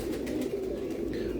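A 25-year-old racing pigeon coos in a low, soft, continuous burble, close and steady, with faint outdoor background.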